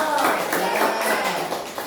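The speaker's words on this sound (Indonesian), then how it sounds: "Tepuk tangan dulu ya." Schoolchildren in a fifth-grade coding class clap their hands together in a steady, close burst that runs the whole time, with voices mixed in.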